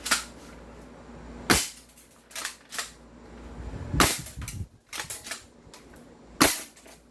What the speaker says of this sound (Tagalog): Nakakatuwa kasi kada putok niya 3 bala.